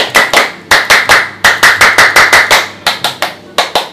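Indonesian scout-style rhythmic clapping (tepuk pramuka), loud sharp hand claps close by in a patterned sequence of quick groups separated by brief pauses, with no talk over it.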